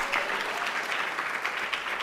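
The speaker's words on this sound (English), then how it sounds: "So if we could just give them a round of applause." Applause at a school board of education meeting honoring a sports team, a roomful of hands clapping steadily and evenly for a couple of seconds, fairly close and unbroken by speech.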